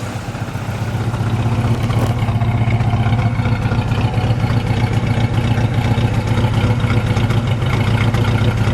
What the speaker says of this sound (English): Okay, let me listen to it idle.